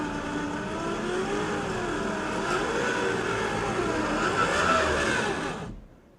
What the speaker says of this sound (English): Once again, we're getting some crazy wheel spin from the front end, but not a lot of response from the rear.